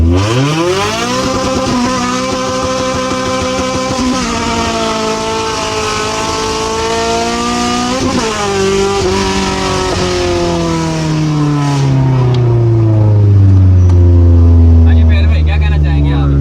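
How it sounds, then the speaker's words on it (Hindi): Close car engine during a street race, revving hard and climbing through the gears, with each upshift dropping the pitch before it rises again, loud and sustained with faint voices underneath. "पहले से ही हो जाए, रक्षे के साथ रेस होगी भाई"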